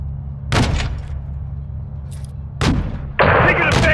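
Modern Warfare 2 (2022) combat, with bursts of gunfire erupting around 0.5 s and again near 2.6 s, followed by a sustained loud volley at the end, all over a low rumbling background.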